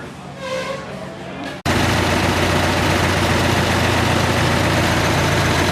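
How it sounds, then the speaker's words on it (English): Old Farmall tractors idle together as they form up for a tractor parade at the Red Power Roundup, a steady loud low rumble that cuts in abruptly after a brief quieter stretch. "here we are forming up for the tractor parade"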